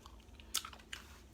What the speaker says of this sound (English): Did you hear that crunch, honey?